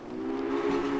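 A steady, sustained tonal train whistle from the Railway Empire video game, a single drawn-out blast that holds at moderate loudness from start to finish with no talk over it.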